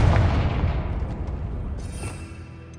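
A Confringo blasting spell going off in Hogwarts Legacy, heard as a heavy, loud rumbling blast at the start that slowly decays into a crackling tail.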